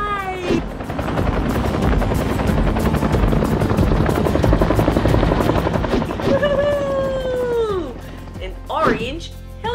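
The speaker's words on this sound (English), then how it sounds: "Do you know what this is? That's right, it's a helicopter." A toy helicopter's steady whirring, buzzing drone runs loud and continuous for most of the clip, with a sliding whistle-like tone near the end and a voice speaking briefly over it.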